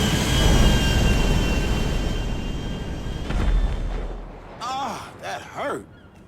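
A GTA V airplane gives a heavy, steady engine roar that fades after about four seconds, giving way to people talking.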